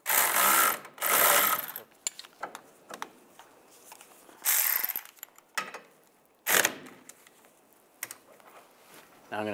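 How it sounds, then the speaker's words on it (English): A torque wrench tightens a bolt on the front sway bar link of a 1999–2005 Volkswagen Jetta, with close, rapid ratcheting clicks in several separate bursts and a few louder rasping strokes, no one speaking. "Now I'm going to torque this bolt to 33 foot-pounds."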